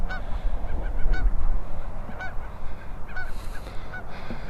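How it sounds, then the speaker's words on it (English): Geese on nests honk repeatedly, several loud calls spread across a steady outdoor background, with another honk near the end. "Oh, there's another goose on a nest right there."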